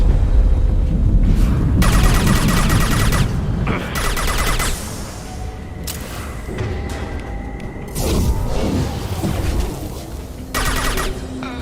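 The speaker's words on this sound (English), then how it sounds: "He did not survive that explosion." Explosions and combat blasts in the Mass Effect 2 video game, a series of loud booming bursts with crackling gunfire-like debris, arriving in several distinct surges with brief quieter gaps between them, no talking.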